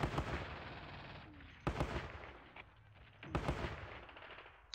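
Bursts of machine-gun fire in the WWII strategy game Squad Battles Red Victory, three sharp loud volleys spaced about 1.6 seconds apart, each trailing off into a rumbling decay, with no talk over them.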